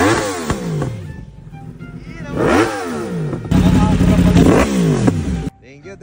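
A Yamaha R1 motorcycle engine revved hard at a big-bike gathering, several loud rising and falling revs with a sustained high howl near the end, then a sudden drop to idle, with voices underneath.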